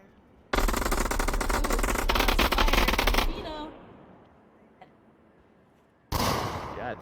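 Sustained automatic gunfire in the VR shooter Onward, a loud continuous burst of rapid shots lasting a few seconds, then a quieter lull with a faint click, before another loud burst of fire starts near the end.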